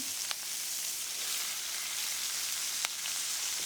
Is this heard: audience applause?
no